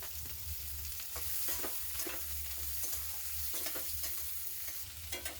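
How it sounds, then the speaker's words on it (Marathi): Chopped onion with green chillies and curry leaves fries in a pan for a leftover-chapati churma, a steady close sizzle broken by repeated stirring scrapes, with no voices. "कांदा छान सोनेरी कलर येईपर्यंत भाजून घ्यायचा"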